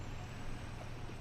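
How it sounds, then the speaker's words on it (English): An air brake on a taco truck hisses in a brief, steady burst while the truck is being moved, with a low rumbling engine underneath and no talk. "Let me move my truck so she don't hit it"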